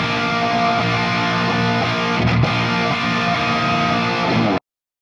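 Heavily distorted electric guitar dialed in for an early brown sound, a thick saturated chord ringing steadily with a brief accent midway before cutting off abruptly, loud and alone.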